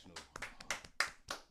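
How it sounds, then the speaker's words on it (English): A small group on a morning radio show clapping briefly, scattered hand claps in quick bursts mixed with voices talking. "let's clap for that national"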